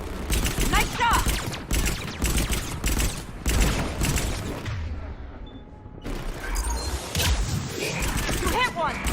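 Heavy gunfire from a Mass Effect 3 battle on Thessia, dense bursts and booming shots filling most of the span with a brief lull midway, voices calling out over the combat.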